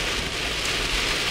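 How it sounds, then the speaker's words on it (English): Heavy rain from Hurricane Arthur pours down on a road in Wilmington, a loud, dense, unbroken roar with no voices. "The rain and stuff is coming down on 421 pretty heavy right now."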